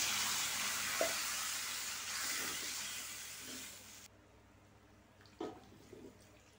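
Loud hissing sizzle of beef frying in a pan, with a few soft stirring clunks; the sizzle cuts off abruptly, leaving quieter scraping and taps.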